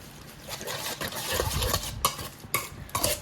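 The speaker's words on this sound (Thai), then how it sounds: "เราจะคนให้เข้ากัน คนไปเรื่อย ๆ" A Thai spicy beef koi salad being stirred and tossed in a bowl, a close steady mixing rustle with scraping and a few sharp clinks of utensil against the dish, with no voices.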